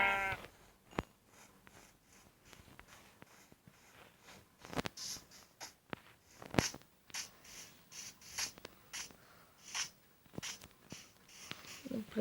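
Sheep bleat in a series of short, scattered calls over a quiet background, some near and loud, others fainter, among small rustling and scraping noises.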